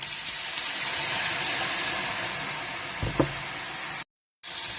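Mushrooms and wine sizzling in a hot pan give a loud, steady, broad hiss with a small stir clatter near the end, before a brief cut-out.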